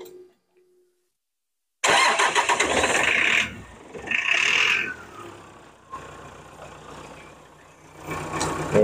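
A Datsun 620 with its original exhaust cranks and fires after a brief quiet moment, then settles into a loud, rough idle with a couple of revs, heard up close with no talk.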